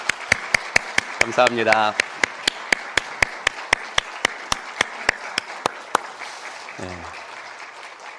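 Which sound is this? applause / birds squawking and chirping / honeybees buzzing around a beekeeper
applause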